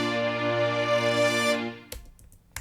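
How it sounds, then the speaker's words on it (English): Orchestral brass French horns from stock Logic Pro plugins swell in a sustained crescendo, holding a rich chord before cutting off abruptly into brief quieter residue. "orchestral brass, French horns crescendo"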